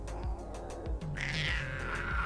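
A Smilodon sabre-toothed cat in a Path of Titans game mod gives its aggressive call, a single sustained snarling roar that swells partway through and holds over steady, dense in-game background noise.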